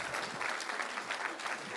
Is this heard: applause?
yes